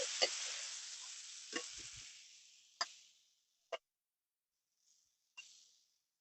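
Prawns fry lightly in hot oil in a wok, with sharp bursts of sizzling and a few clicks of stirring, each burst fading until the pan goes nearly quiet.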